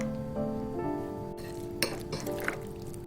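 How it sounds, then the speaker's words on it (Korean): A utensil clinks against a bowl while corn fritter batter of corn, mozzarella, frying mix, sugar, salt, pepper and water is mixed, giving a few sharp taps over steady close kitchen stirring. "물 4분의 1컵 이렇게 넣고 잘 섞어주세요."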